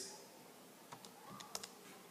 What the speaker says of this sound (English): I'm typing in the next number